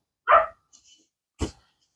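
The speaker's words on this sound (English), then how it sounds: "They're barking because we're making noise." Two sharp dog barks, close and loud, with a short gap between them and a faint yip in the middle.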